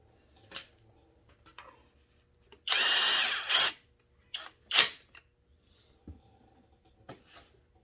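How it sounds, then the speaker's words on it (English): A power drill drives screws into a Stihl MS 201T chainsaw. There is one loud, sustained run of a little under a second, then a shorter burst, with scattered small clicks and handling taps around them. "We're going to try to get these screws started."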